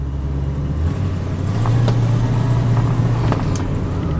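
A 1967 Mercury Cougar Dan Gurney edition with a 302 V8 drives down a street, its steady low engine drone and road noise running throughout, rising slightly midway as it pulls along, close and fairly loud.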